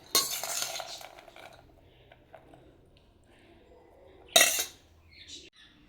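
Mung bean salad stirred with a spoon in a bowl, a few close scraping clinks of metal on dish, then a quieter pause and one more brief stirring burst.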